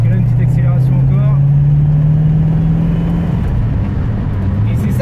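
A 1970 Plymouth Roadrunner muscle car accelerates up close, its loud engine note rising steadily for several seconds and then easing back to a rougher, lower rumble.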